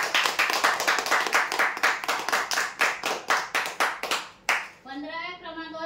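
Loud, rhythmic applause rings out for a prize draw winner who took a fiber table fan, with even claps repeating for several seconds before a voice begins speaking at the end.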